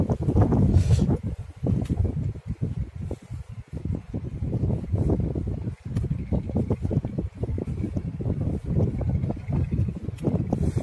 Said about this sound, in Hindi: काफी हवा चल रही है।